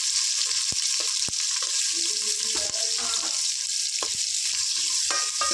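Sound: onions and chillies frying in oil

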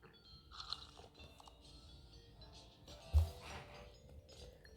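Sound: eating food in Toca World video game

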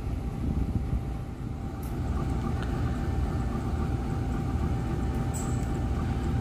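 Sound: Motis Selatan train departing the station

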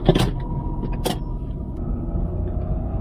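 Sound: Renault Clio 4 0.9 litre turbo engine running

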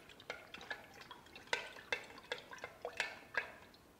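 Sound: stirring a pineapple party punch

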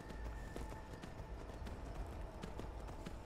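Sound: horse hooves clip-clopping while riding, from the video game Skyrim

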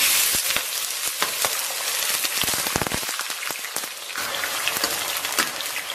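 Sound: rock sugar caramelizing in oil in a wok

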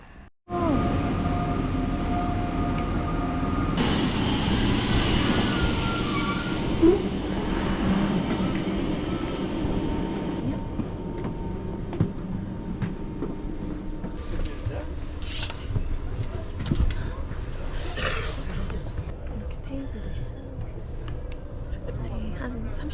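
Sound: express train ride to Paris

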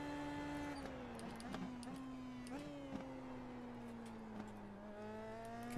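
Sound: Indy Pro 2000 race car engine in iRacing video game

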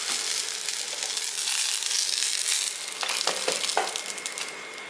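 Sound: curry leaves lightly frying in a pan

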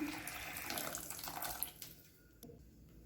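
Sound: water being added to tomato masala

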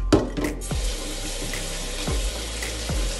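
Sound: rinsing jasmine rice under running tap water

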